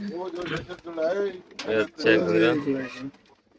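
Pigeons cooing at a pigeon farm in Habiganj, with soft repeated coos close by and people talking over them throughout.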